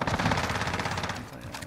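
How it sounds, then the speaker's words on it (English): Automatic weapon fire in Warzone, a steady rapid burst of close-range shots that runs continuously and tapers slightly toward the end. "I'm over here shooting like it's an AR"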